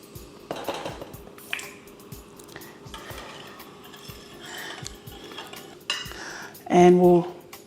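Coconut cream being stirred into Samoan sua masi in a cooking pot, with soft scraping and clinking of a utensil against the pot in irregular strokes, close by, and a brief louder burst near the end.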